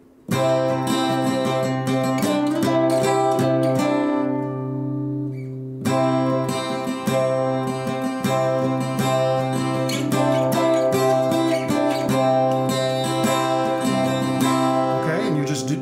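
A melodic guitar lick in open C tuning played on ringing open strings, steady strummed notes continuing throughout with a brief drop around the middle.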